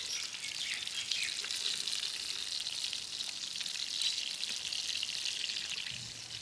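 Pieces of hilsa fish fry steadily in a pan for a village-style ilish khichuri, giving off a continuous bright crackling sizzle with small pops. The sound holds even and fairly loud throughout, and no one speaks.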